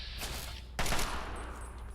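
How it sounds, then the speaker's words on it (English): Rapid bursts of gunfire in Fallout 3, a sharp close volley around the middle of a brief stretch with fainter shots before and after. "who's shooting at me?"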